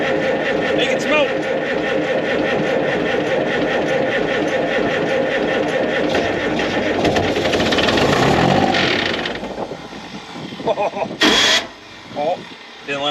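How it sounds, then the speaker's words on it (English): A 1983 Timberjack 230G skidder's Detroit 353 diesel cold starts without ether, the starter cranking loudly and steadily before the engine catches and rumbles, followed by knocks and a short sharp burst; speech occurs. "We're gonna see if we can cold start this bad boy."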